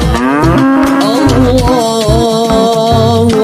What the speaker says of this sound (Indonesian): Wow, ada kerbau Toraja,